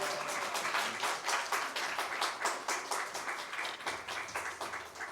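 A church congregation at a Sunday worship service claps together in welcome, a dense, steady patter of applause lasting throughout at moderate distance.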